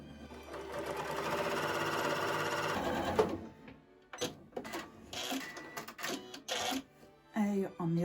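A Janome sewing machine on its quilt setting stitches quilt blocks with a close, rapid mechanical hum for a few seconds, then stops, followed by a voice talking over soft handling sounds.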